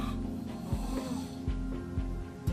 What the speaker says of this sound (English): Snoring, as expected,